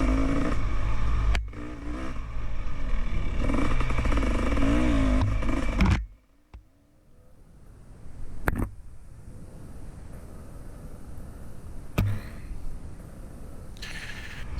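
Dirt bikes ridden on a trail soon after rain: a loud, close engine drone fills the first six seconds, then drops away to quiet, with a few clunks and rattles afterwards.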